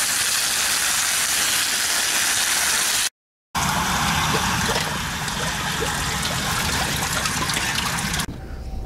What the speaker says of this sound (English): this is nothing that a shovel and a hose can't take care of